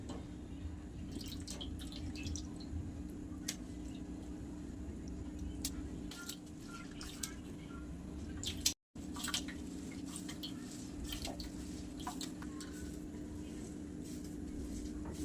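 Food is rinsed by hand in a bowl of water, with soft sloshing, scattered drips and small splashes, faint and close, pausing briefly partway through.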